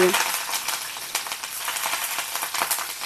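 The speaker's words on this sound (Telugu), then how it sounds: "మనం పచ్చిమిర్చి ఇలా ముందే ఆయిల్లో వేసామంటే అది మంచిగా రోస్ట్ అయిపోతుంది" Green chillies and onions frying in hot oil in a home kitchen pan, a bright crackling sizzle with sharp spattering pops and quick stirring scrapes, close and continuous.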